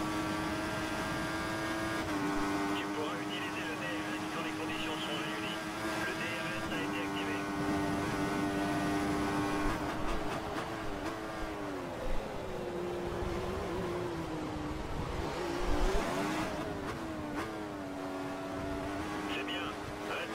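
Formula 1 race car engines in a racing video game whine and rise in pitch as they accelerate, a loud, continuous sustained drone with shifting tones, under talk.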